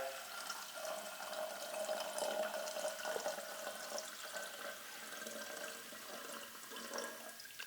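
A 50/50 mix of water and alcohol is poured from a graduated jug into the boiler of a gin still, making a soft, continuous trickling and splashing that stays fairly quiet and steady, with no voices over it.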